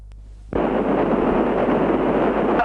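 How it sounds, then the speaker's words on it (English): Out of a low hum, a sudden loud bomb blast at the Russell Street police headquarters, 1986, erupts and gives way to a dense, sustained roar of noise that continues to the end. "I presume you heard that loud explosion right next to you"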